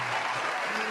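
Audience applause for wrestler Bron Breakker at a live event, a dense, loud burst of clapping and crowd noise lasting under a second.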